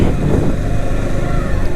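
A KTM 250 Adventure motorcycle rolls into the grounds of the Kuchanur Saneeswara temple, giving a steady, loud engine drone with rumbling low end that holds evenly throughout, with no talk over it.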